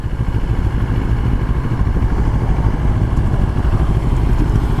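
A Moto Morini motorcycle engine idles steadily close by, a low, lumpy rumble with a constant mechanical clatter and no change in pitch.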